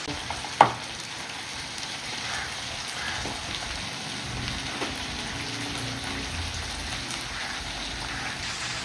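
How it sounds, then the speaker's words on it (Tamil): Butter melts in a pan on the stove, ready for frying parai fish, with a steady close crackling sizzle like light rain and a single sharp clink near the start. "ஸ்டவ் ஆன் பண்ணி கொஞ்சம் பட்டர் ஃபுல்லாக அதில் போட்டுருவோம்"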